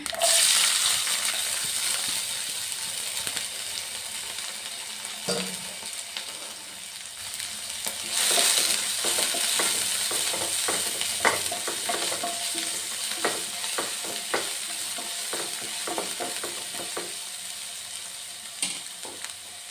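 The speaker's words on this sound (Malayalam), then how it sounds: "കടുക് പൊട്ടിക്കഴിഞ്ഞ് ഞാൻ ഇച്ചിരി ഉള്ളി മുളകും കൂടി ഇടുവാണേ" Onion and chilli fry with popped mustard seeds in oil for a mezhukkupuratti, a continuous bright sizzle punctuated by repeated spatula scrapes and taps over twenty seconds, close and with no talking.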